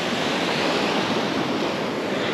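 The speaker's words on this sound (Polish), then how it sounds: "fale delikatnie tylko przepływają co po niektóre na drugą stronę" Gentle sea waves wash over a sandbar on the beach at Łeba on the Baltic coast, a steady broadband rush of surf with some wind noise, close and continuous with no voices.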